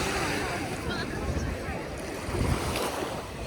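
Sea waves on a crowded Italian beach, a continuous broad wash of surf mixed with wind buffeting the microphone, swelling slightly midway.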